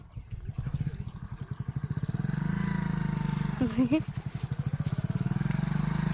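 A motorcycle engine runs steadily at close range with a rapid, even exhaust pulse; a voice speaks briefly over it midway through.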